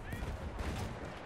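Faint, rapid gunfire rattles in a Battlefield 1 Conquest match with sniper play, a quiet, dense burst of distant shots lasting about a second.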